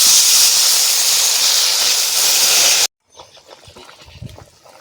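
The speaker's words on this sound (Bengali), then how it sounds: "এবারে দিয়ে দেব জল।" Water poured into a hot pan of frying potato and okra curry sets off a loud, steady steam hiss. It cuts off abruptly and leaves faint clattering and low background noise.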